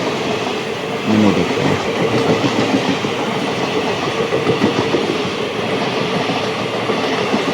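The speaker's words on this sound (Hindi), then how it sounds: "हमारे सामने 789 के साथ पास हो रही कोई स्पेशल ट्रेन" A special passenger train passes on the adjacent track near Prayagraj Sangam junction, with a loud, continuous rumble and steady clickety-clack of wheels close by. A voice speaks briefly over it.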